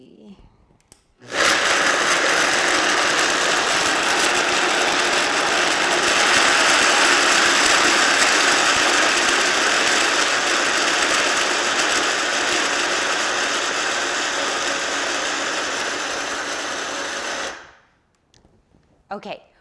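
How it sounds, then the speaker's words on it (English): A kitchen blender whirs loudly as it blends chocolate chips, one continuous grinding roar lasting about sixteen seconds before cutting off, with a little talk at the start and end. "And then we're gonna blend it up. Okay, this is noisy."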